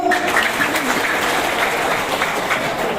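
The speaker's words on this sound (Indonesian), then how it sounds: "Sekali lagi boleh tepuk tangannya Bapak Ibu." An audience at the IKPS Batam gathering claps in a steady, loud round of applause that carries on evenly from start to finish.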